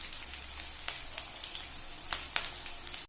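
Onions sizzling and frying in a pan for a duck curry, a steady close crackle with scattered sharper pops and stirring scrapes, no voices.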